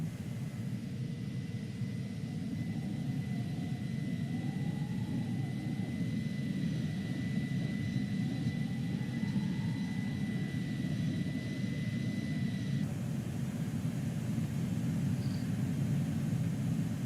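A steady, close, unbroken roar of an Airbus A310 airliner in flight in Microsoft Flight Simulator 2020, holding even for the whole stretch with a faint high tone riding over the engine noise and no talking.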